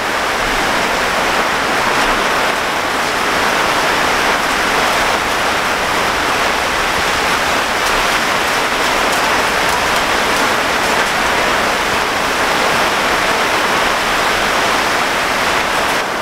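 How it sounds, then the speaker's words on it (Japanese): Heavy rainstorm lashing a mountain auto campsite, driven sideways by strong wind, a dense, loud, continuous roar of rain and gusts filling the whole stretch with no let-up and no voices. "強いからね、横に横殴りの風なんですよね。"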